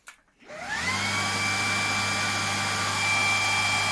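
A Xiaomi G10 stick vacuum cleaner starts up and then runs loudly and steadily with a high whine, close by, with no talk over it.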